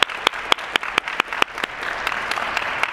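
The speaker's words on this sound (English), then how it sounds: "a round of applause." A ceremony audience at Wheaton College applauds a newly introduced provost: sharp, distinct claps open the burst, then thicken into a steady, loud wash of clapping that carries on to the end.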